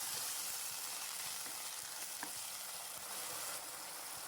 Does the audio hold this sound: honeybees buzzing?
no